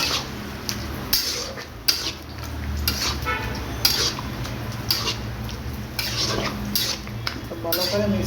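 A spoon scrapes and clatters steadily around a pot as pieces of meat are stirred and mixed, close and fairly loud, with repeated metallic knocks against the pot's sides.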